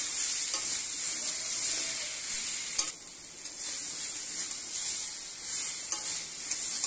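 Vegetables, including stalks and potato, fry in oil with turmeric while being stirred, a steady close sizzle with scraping strokes from the spatula and a few sharper knocks against the pan.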